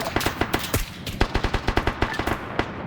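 Rapid bursts of automatic gunfire during a 50-versus-20 PvP raid on a cave cache in a video game, loud and close, with sharp shots in quick irregular volleys and no talking.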